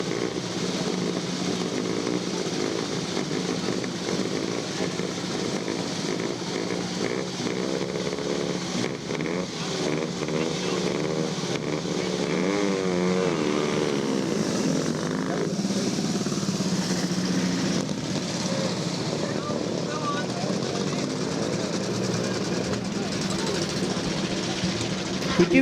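Vintage Scott Flying Squirrel motorcycle setting off at a club run, a steady buzzing two-stroke engine note running continuously with ambient crowd noise and a commentator talking over it.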